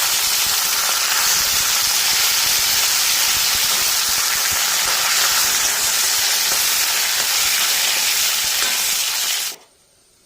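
Curry leaves sizzle and crackle in hot oil for pickle-making, a loud, steady hiss that fills nearly ten seconds before cutting off abruptly, with no voices.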